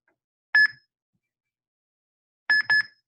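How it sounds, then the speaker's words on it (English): Two short electronic beeps from a NeuroNode switch controller, a single tone followed by a quick double beep in a row, clear and close in an otherwise silent room. "There you go, 2 beeps in a row."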